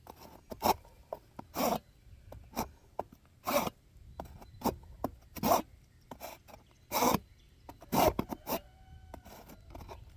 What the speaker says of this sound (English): you're just going to take and saw it just a little bit